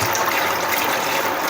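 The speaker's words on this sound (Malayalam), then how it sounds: "നമ്മൾ ആദ്യം തന്നെ വെള്ളം ഒഴിക്കാൻ പോവാണ്." Water pours steadily into a cooking pot for pasta, a dense continuous splashing rush filling the whole short stretch at close range with no voices over it.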